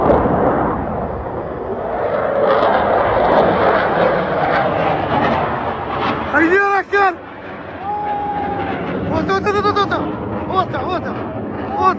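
An F-15 fighter jet roars overhead, a loud broad rumble that swells and then eases, while a voice speaks over it.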